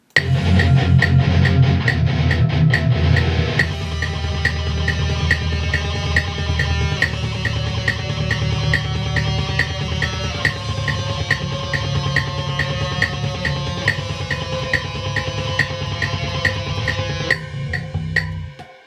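A driving electric guitar riff in quick even sixteenth notes with bent strings, played alongside backing music for several bars.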